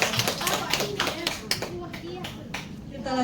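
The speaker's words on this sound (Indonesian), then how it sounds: "Oke, tepuk tangan untuk kita semua." A small group claps hands together in a meeting room, a loose irregular patter of individual claps close by, with voices talking over it.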